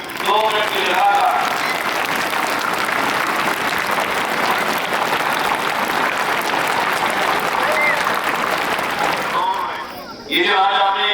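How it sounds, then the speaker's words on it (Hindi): Schoolchildren applaud at a Dussehra celebration at Army Public School Pithoragarh, loud sustained clapping from a large crowd that swells steadily and briefly drops near the end before resuming, with faint voices underneath. "आज की प्रस्तुति के लिए 2 मिनट सब बच्चे जोरदार तालियां बजाएंगे।"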